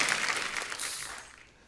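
An audience at a live comedy mimicry show claps in a dense burst of applause that fades away over the short stretch.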